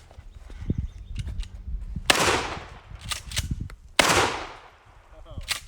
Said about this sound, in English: let's try some double-aught buckshot out of the Mossberg